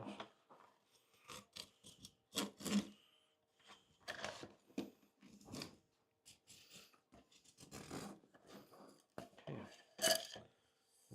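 A flange lip is cut off the bottom of a duct for a workshop dust and fume extraction room, giving quiet, intermittent crunching snips with short pauses between cuts.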